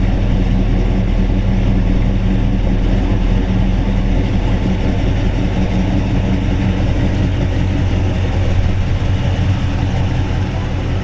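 A 1956 Chevy 210 with a ZZ4 350 V8 runs close by at a steady idle, a deep rumbling throb that holds unchanged and loud throughout with no other sounds over it.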